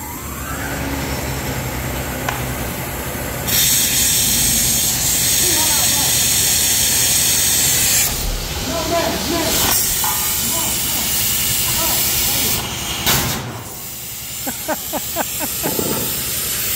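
Air hisses steadily while new Mitas tires are inflated on wagon wheels, a loud broadband rush with surges and pauses, as people talk nearby over it.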